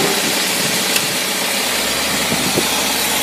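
An International engine fitted with a Holley two-barrel carburetor idles steadily and loudly up close, a smooth continuous rumble with no talk over it.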